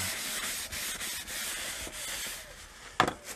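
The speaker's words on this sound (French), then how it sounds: "j'utilise du WD-40 pour nettoyer." A worn Parkside PWS 1200 pressure washer part, 14 years old, is rubbed clean with WD-40 and a cloth, giving a steady close scrubbing hiss in repeated strokes, with a brief sharper scrape near the end.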